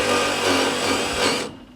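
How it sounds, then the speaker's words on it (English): A power driver sends screws into an aluminum channel to fix new plastic in place, a loud, close, steady whirring that runs for over a second before stopping abruptly. "trying to send screws into the aluminum channel so that we can affix the new plastic to the channel that I'm screwing."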